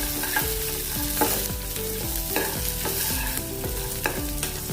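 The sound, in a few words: roasting dried red and green chilies in a pan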